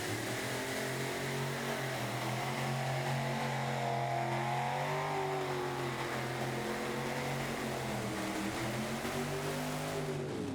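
A pro stock pulling tractor at a 2019 Pro Pulling event, engine roaring at high revs, its note rising and falling as the front end lifts and the huge rear tires dig in, loud and continuous throughout.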